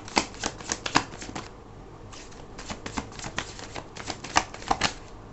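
Tarot cards being shuffled by hand, a quick run of crisp riffling flutters and soft slaps close by, with a brief pause midway before the shuffling resumes.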